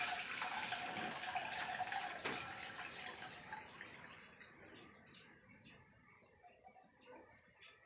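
Water drains from rinsed rice in a steady rushing stream that gradually thins and fades to quiet trickles.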